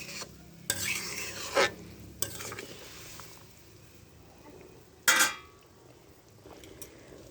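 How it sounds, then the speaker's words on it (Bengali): A vegetable curry simmers quietly in a pan while a spoon stirs it in several short scraping bursts, two of them louder, over a soft bubbling background. "তরকারি ফুটছে"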